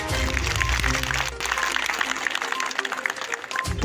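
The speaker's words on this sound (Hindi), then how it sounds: "जोरदार तालियों के साथ" An audience at a political gathering claps loudly, a dense burst of applause mixed with crowd noise and a low background hum, sustained for about four seconds.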